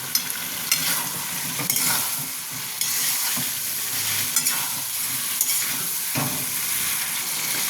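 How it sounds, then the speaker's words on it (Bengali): Chicken and bottle gourd are stir-fried in a pan under a continuous sizzle. Close, scraping spatula strokes cut in at irregular intervals, with no voices. "লাউটা দিয়ে এবার খানিকক্ষণ আমি এটাকে কষবো।"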